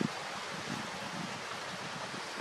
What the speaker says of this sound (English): The sound of the wind going through their leaves.